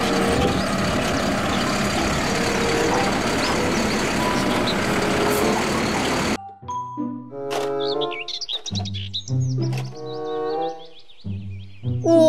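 Toy garbage truck sounds: a steady noisy rumble for several seconds, then electronic toy effects with beeping tones and chirpy melodic bleeps, loud and close.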